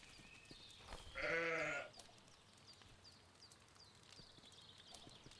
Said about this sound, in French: Notre petit mouton, qu'est-ce qu'il fait?